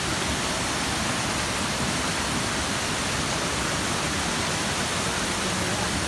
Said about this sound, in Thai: เป็นน้ำตกเล็กๆลำธาร